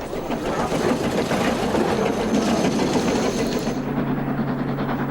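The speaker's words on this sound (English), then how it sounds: "The locomotive that pushes this splendid carriage in 1872 was one of the first to climb up the Rigi via the route of the cog railway" An 1872 cog railway locomotive climbs the Rigi, giving a steady, loud mechanical rumble and rattle that runs unbroken throughout, with a low hum settling in toward the end.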